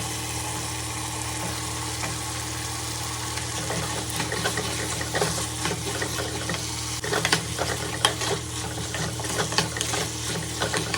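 Vegetables sizzle steadily in a pan while being sautéed with salt for sambar, with intermittent stirring, scraping and clattering over the constant frying hiss.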